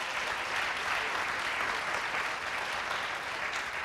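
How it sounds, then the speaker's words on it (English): A jazz radio concert audience breaks into sustained, even applause, a thick wash of many hands clapping that stays loud and unbroken throughout. "how many here are Jazz 88 listeners. Round of applause."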